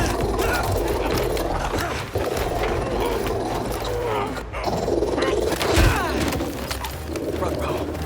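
Dogs barking and growling in Marvel's Spider-Man 2, with yips and snarls scattered through a dense game soundscape of effects, with no speech in the mix.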